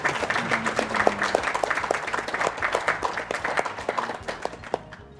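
A burst of dense, steady applause from a group at a speedrun marathon event, with many hands clapping at once before it thins out at the end.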